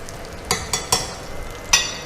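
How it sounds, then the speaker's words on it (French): Grouper fillet searing in a frying pan gives a steady low sizzle, broken by four sharp clinks or scrapes of a utensil against the pan, spaced irregularly and heard up close. "on est en train de saisir le filet de mérou"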